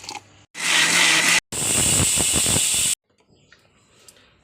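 A kitchen mixer grinder blends grated coconut with garlic, cumin and water. It runs loud in two bursts with a short pause between them, then stops, leaving faint background noise.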